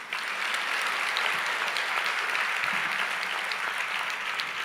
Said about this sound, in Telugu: ఇప్పుడు కొట్టరో చప్పట్లో